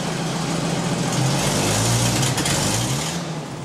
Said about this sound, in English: It's a 1960 International Fire Truck